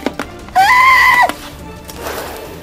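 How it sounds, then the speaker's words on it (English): A horse gives one loud, close whinny lasting under a second, preceded by a couple of sharp knocks and followed by quieter rustling. "Let go of me, you bad horse!"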